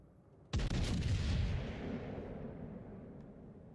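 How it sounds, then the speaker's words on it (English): A single heavy boom of warship guns firing in World of Warships Legends, a sudden loud blast followed by a long rumbling decay that fades over several seconds, with no voices. "I'm just firing blindly here"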